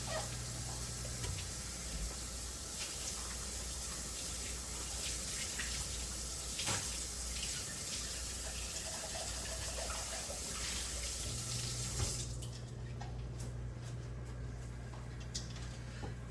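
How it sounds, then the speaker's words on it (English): Tap water runs steadily into a kitchen sink while hands are washed during cooking, a constant splashing hiss that stops abruptly near the end. "Washing my hands"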